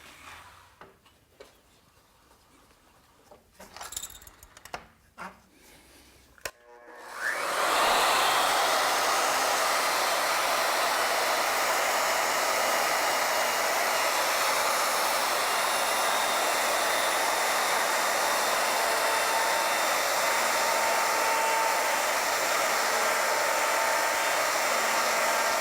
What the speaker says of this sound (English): I'm going to bring that cutter up to this point and just run it around the circumference to kind of tie off that rope.